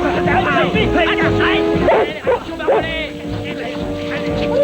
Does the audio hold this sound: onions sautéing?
no